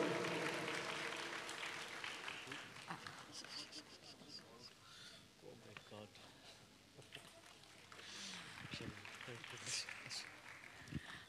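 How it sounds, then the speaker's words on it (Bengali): Audience applause at a Bengali cultural programme welcoming a performer to the stage, steady dense clapping throughout with crowd murmur and voices mixed in, tapering slightly before a final swell. "আপনারা ওনাকে করতালি দিয়ে অভিনন্দন জানাবেন"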